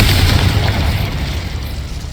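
A Confringo blasting spell explodes in the Hogwarts Legacy video game: a loud, deep boom with a rumbling low-end tail that slowly fades over about two seconds.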